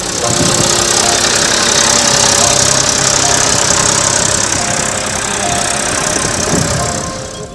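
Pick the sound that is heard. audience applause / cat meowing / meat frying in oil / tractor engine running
tractor engine running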